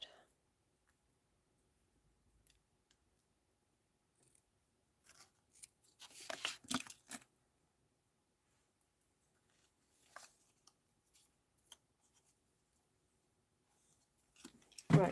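Scissors snip a fishtail end into a paper scrap, a few quiet crisp cuts clustered together with scattered faint clicks and handling noises in an otherwise silent room.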